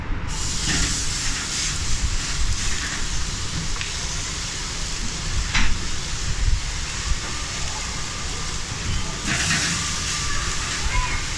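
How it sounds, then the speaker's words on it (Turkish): Steak sears on a hot cast iron grill over a charcoal barbecue, giving a steady broad sizzling hiss that stays close and constant, with occasional brief louder spits. "Döküm ızgaramı iyice ısıttım. Ve artık mühürlemeye geçebiliriz."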